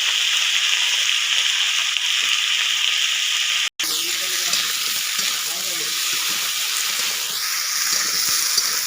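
Potato, eggplant and red greens fry in a pan for a village-style saag dish, making a steady hiss broken by a brief cut, then a renewed louder sizzle with stirring scrapes, close and continuous.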